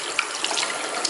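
A running tap pours steadily while shampoo is rinsed out of makeup brushes in a sink, a close, even hiss of flowing water with small splashy variations.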